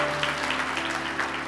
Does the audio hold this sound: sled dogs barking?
no